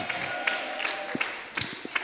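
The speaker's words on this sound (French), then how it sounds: "Sous vos applaudissements, mesdames, mesdemoiselles et messieurs" An audience at a launch event for preschool teaching guides in the DRC claps in a scattered, fairly faint way, with a sparse patter of individual hand claps over a steady background hum.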